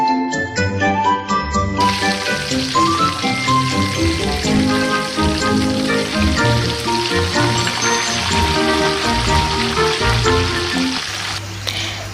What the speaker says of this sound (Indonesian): kita giliran lagi untuk menggoreng ayam ya teman-teman